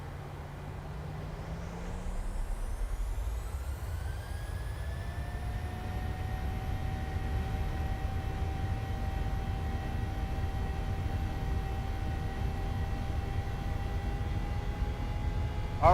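Airliner engines spool up in a flight simulator game for the takeoff roll, a low rumble rising in pitch with whining tones that climb and then hold steady, continuous and fairly loud with no talking.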